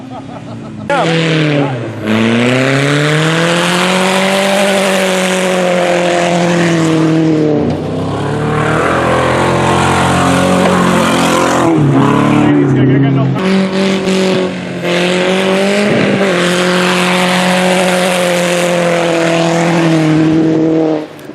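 Race cars at an amateur race day, including a VW Passat and a Ford Focus, with engines revving loudly and climbing and dropping in pitch through repeated gear changes, close by and continuous across the run with brief drops between accelerations.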